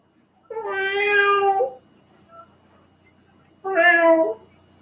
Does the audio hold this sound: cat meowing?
yes